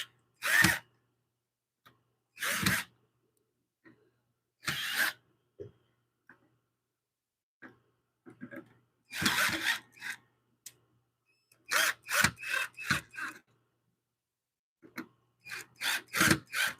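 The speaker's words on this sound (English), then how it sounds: "These screws are a little loose. Okay. Well, we will carefully tighten them." A power drill driving loose screws into a wood lathe runs in short separate bursts, several brief whirs with quiet gaps between them, close by and moderately loud.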